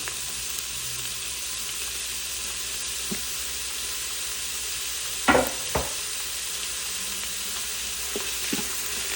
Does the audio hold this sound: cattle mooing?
no